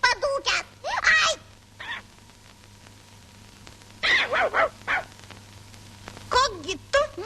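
A fierce dog in a children's story barks in short bursts at the start and in a few more clusters later, fairly faint, with moderate gaps between them.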